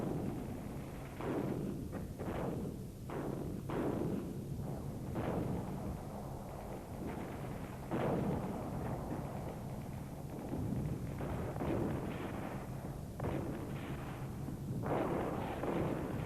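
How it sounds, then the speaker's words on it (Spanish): Israeli artillery bombarding Syrian positions in 1967 Six-Day War footage: a steady run of booming thuds and blasts, roughly one every second or two, over continuous low rumble, with no talk. "Desde la retaguardia, la artillería israelí bombardeaba los focos sirios más resistentes con precisión milimétrica."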